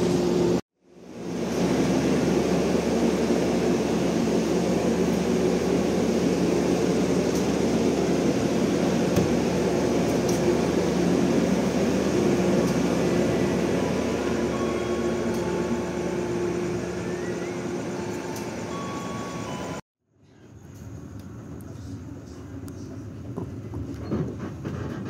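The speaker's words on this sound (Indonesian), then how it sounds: "kereta api Kahuripan tiba di stasiun Lelas dan bertemu kereta api" The Kahuripan economy train pulls into Leles station at night, a steady loud rumble of wheels and carriage noise sustained for nearly twenty seconds before cutting off, followed by quieter station ambience.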